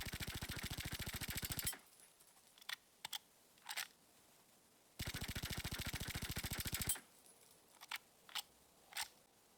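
An SMG chambered in .32 ACP fires in two long, rapid automatic bursts in the shooter game Generation Zero, and short clicks and clacks of handling and reloading fall between the bursts.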